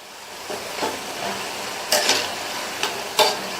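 Snacks frying in oil over a medium flame and being turned over, a continuous sizzle broken by a few sharp scraping clatters from the turning.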